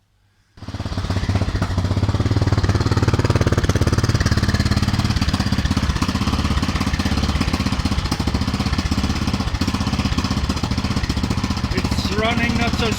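A Yamaha XT600e motorcycle's replacement starter motor cranks the engine steadily without it catching, a loud, continuous, rough mechanical churn that starts abruptly and runs nearly unchanged for about twelve seconds.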